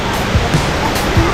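Suruli waterfall in Theni, a loud, continuous broadband rush of falling water that stays steady throughout, close and dense, with no clear speech over it.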